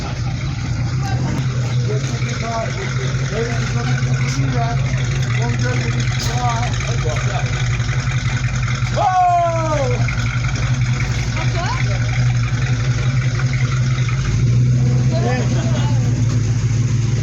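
An old Citroën 2CV engine rumbles steadily at idle with a low constant hum, while people talk nearby over it.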